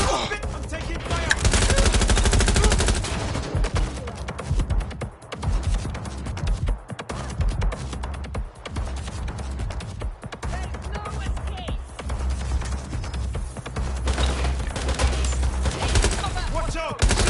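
Heavy, sustained gunfire in a Watch Dogs: Legion firefight: dense overlapping bursts and volleys that run almost without pause, loud and close, with brief lulls and voices calling out now and then.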